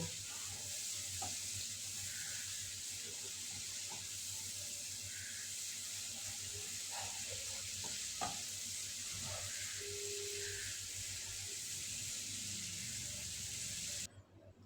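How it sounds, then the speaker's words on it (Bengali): Spice paste frying with a little water for a fish-head muri ghonto makes a soft, even sizzle throughout, broken by a few faint clicks and scrapes of stirring. "সামান্য একটু জল দিয়ে মশলা ভালোভাবে কষে নেব"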